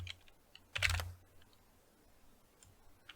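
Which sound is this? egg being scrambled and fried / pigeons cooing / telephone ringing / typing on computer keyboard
typing on computer keyboard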